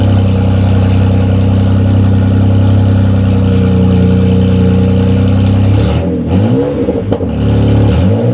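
A BMW F80 M3 fitted with cheap aftermarket downpipes runs loud and close with a steady droning idle, then several sharp revs rise and fall near the end.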